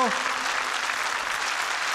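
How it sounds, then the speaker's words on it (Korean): Studio audience applause on a 1980s Korean television variety show, continuous dense clapping at moderate loudness, with a brief voice trailing off at the very start. "다시 한번 큰 박수 보내주세요."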